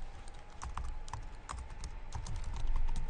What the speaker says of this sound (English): Let's type it in here, radio control